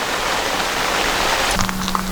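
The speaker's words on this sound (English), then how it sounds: "we have a torrential downpour. Only a short one coming through though, bout of heavy rain." A short burst of torrential autumn rain pours down at night, a dense, loud, continuous hiss of heavy drops with no talking.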